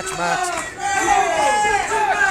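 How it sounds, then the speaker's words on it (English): Wrestling crowd at an MWA event cheering and chanting to rouse a downed wrestler, a loud sustained roar under a commentator talking over it. "This crowd trying to get Hosscat on his feet."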